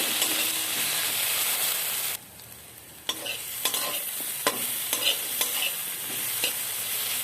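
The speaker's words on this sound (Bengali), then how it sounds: "সমস্ত মশলা আমি ভালো করে ভেজে নিচ্ছি।" Spices stir-fry in a hot pan for a Bengali rohu fish curry, giving a steady close sizzle broken by repeated scraping stirs, with a brief quieter dip partway through.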